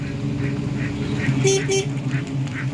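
Ducks on a farm of about 1,200 birds quack in a few short bursts over steady background noise, with people talking nearby throughout.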